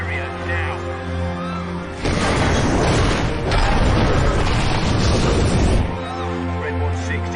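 Detonation of a device in a military operation: a sudden loud broadband blast that rolls on as a heavy, sustained rumble for about four seconds before cutting back to the steady background of an ongoing scene.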